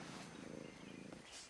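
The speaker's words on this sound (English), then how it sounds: "Oh my god, this cat needs a pet." A cat in the video game Assassin's Creed Black Flag purrs steadily in a brief, fairly faint rumbling burst, with no talk over it.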